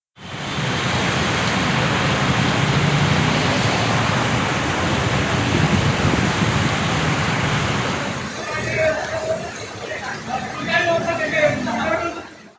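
Heavy rain in Hyderabad roars steadily as a dense, broadband downpour, then eases into lighter patter with some scattered clatter and faint background noise.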